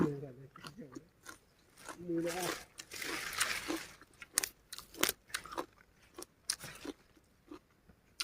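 Raw vegetables dipped in chili paste are bitten and chewed close up, giving sharp, irregular crunches and moist chewing. Brief murmured vocal sounds come early on.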